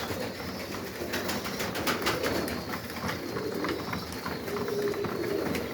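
Pigeons cooing inside a breeder's loft at the end of the breeding season, a steady low murmur of overlapping coos with scattered wing rustles and clicks, moderately close and continuous throughout.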